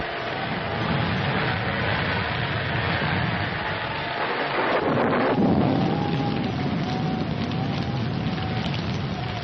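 A thunderstorm with heavy, steady rain pouring down and deep rolling thunder rumbling underneath, loud and continuous throughout with no voices.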